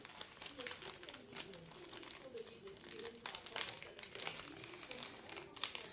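A plastic packet of stickers being torn open and handled, close and continuous crackling and crinkling with irregular sharp bursts, while someone speaks quietly in the background.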